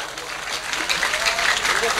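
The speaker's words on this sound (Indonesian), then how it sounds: "Tepuk tangan tuh." Audience clapping at a public Islamic religious gathering, a short burst of scattered applause running alongside faint voices and crowd murmur.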